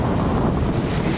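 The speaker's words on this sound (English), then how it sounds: "Wind gust." Wind gust buffeting the microphone outdoors on a disc golf course in Coppell, Texas, a loud, steady roar of rumbling noise with no voices.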